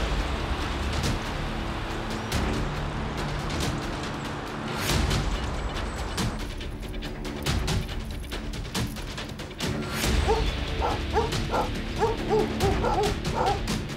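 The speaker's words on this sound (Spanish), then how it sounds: "Que traigan 4 o 5 perros para que puedan buscar mejor." Search dogs bark in short, scattered yips and woofs against steady background noise, growing busier with a run of quick barks near the end.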